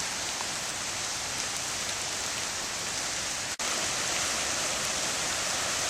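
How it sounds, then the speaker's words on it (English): A brook's small rapids flow just beyond a recreated wooden bridge on a historic path. The rushing water hisses steadily, dense and unbroken, with no voices over it. "A little bit of rapids, a little bit of sound coming out of it, really neat."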